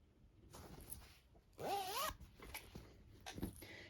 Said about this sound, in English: This one actually has a zipper going the other way for whatever reason.